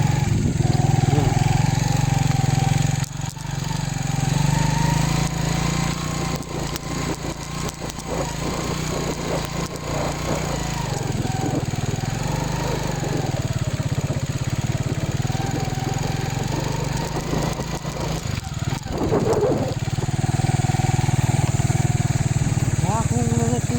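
A Honda Click scooter's engine runs with a steady, buzzy drone that rises and falls a little, close by, with someone talking over it.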